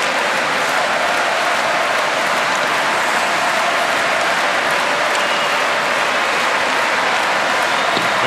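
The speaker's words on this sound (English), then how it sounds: "The Austrian fans have the flags waving, they're clapping and chanting." Austrian fans at an ice hockey world championship game against Canada fill the arena with steady, dense clapping and crowd noise, a continuous loud wash with no clear break throughout.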